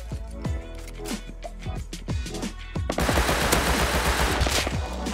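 Gunfire in the survival game Rust: a run of sharp, separate shots, then a sustained, louder burst of rapid automatic fire, close and alone.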